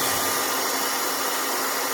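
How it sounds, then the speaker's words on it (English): A hair dryer blows close by onto a projection screen to warm and soften it, a steady high-pitched whooshing hum holding constant throughout, with no talking. "even with a hair dryer"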